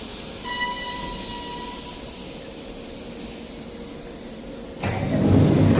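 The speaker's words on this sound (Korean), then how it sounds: "때마침 대구 3호선 열차가 들어옵니다" A Daegu Line 3 train rolls into a station with a rising rumble and high whine, then a sudden burst of hissing air near the end.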